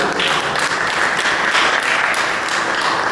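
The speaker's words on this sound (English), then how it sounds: "Give another round of applause," Audience applause at a county fair show, a crowd clapping in a dense, steady wash that stays loud and even for the whole stretch.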